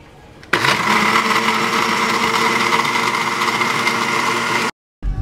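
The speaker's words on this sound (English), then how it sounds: "Everything's in the blender. Time to make some coffee." A blender runs continuously at a steady high-pitched whir while making coffee, starting abruptly and stopping cleanly after about four seconds, loud and close with no talk over it.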